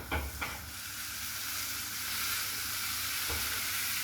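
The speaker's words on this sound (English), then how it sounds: "should be able to hear that sizzling straight away" Seasoned steak laid into a smoking-hot pan gives a steady, close, loud sizzle with a few sharp clatters at the start and near the end; no talking.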